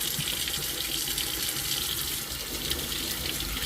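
A tap runs in a steady, hissing stream while plant roots are rinsed of soil for hydroponic growing; the flow stays close and even, with no talking.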